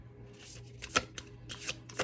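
Tarot cards being shuffled by hand, soft close riffling and slapping in a few quick bursts against a quiet background, with no voices.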